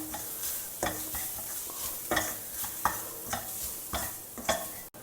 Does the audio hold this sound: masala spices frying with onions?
yes